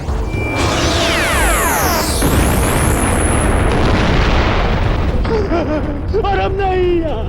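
A planet explodes in a science-fiction superhero series as a loud, sustained, rumbling blast layered with sweeping, whooshing tones, followed by a voice speaking near the end.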